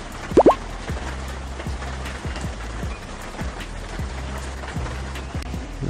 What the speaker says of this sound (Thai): ฝนเบาแล้วเนาะ